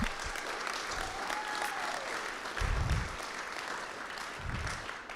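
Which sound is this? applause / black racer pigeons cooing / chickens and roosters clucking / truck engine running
applause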